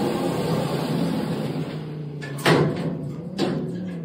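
A shopping mall elevator's doors slide shut, with a low steady machine hum under two short, sharp knocks as the panels close and settle, heard nearby and without talk.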